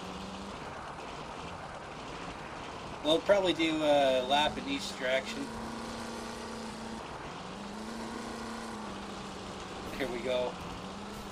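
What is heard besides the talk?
International Harvester truck hauling a tractor in Spintires video game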